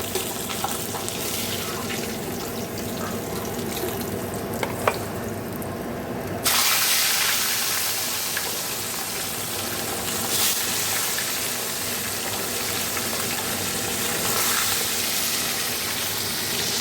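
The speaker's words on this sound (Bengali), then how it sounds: "দেখো কড়াইতে তেল দিয়ে মাছ ভাজছি" Fish frying in oil in a wok makes a continuous hiss that grows noticeably louder partway through, with some faint clatter and no speech.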